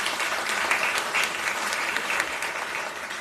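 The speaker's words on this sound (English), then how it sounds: "Let's give a round of applause for that." Steady applause from an audience at a county commissioners meeting, a dense, even wash of clapping that holds at full strength throughout.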